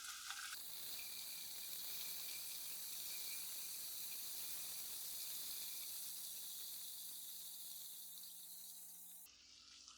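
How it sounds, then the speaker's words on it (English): Shrimp sizzle steadily in a hot pan, a dense continuous crackle and hiss that holds for several seconds and then cuts off abruptly. "you want to hear that sizzle"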